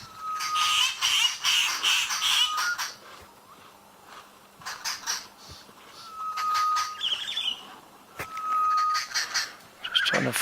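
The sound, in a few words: birds calling in thick trees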